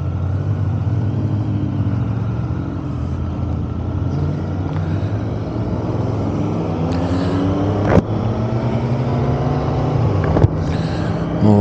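Motorcycle fitted with a new exhaust, heard in the Peak District in England: a steady, loud low engine rumble that continues throughout, with a couple of sharp clicks or knocks partway through.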